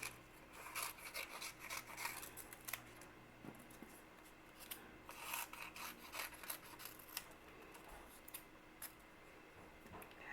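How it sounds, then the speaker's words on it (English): Scissors snip out paper feather shapes for a craft puppet in a string of quick, close cuts with papery rustling between them, quiet overall. "cut out some fun feather shapes"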